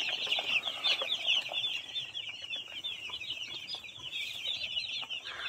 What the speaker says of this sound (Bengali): দেখতে পাচ্ছেন আমার মুরগির বাচ্চাগুলো